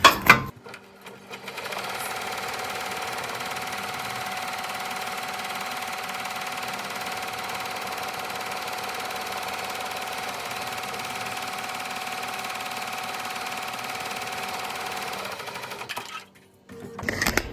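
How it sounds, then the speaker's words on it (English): Embroidery sewing machine stitching a mug rug in the hoop, a loud, steady, rapid mechanical hum that runs unbroken for most of the span before stopping near the end. "That's all the sewing there is."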